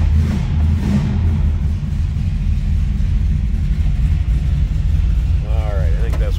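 A 1955 Dodge Coronet two-door sedan's engine idles steadily while warming up, a loud, continuous low rumble filling the whole stretch, with a brief voice near the end.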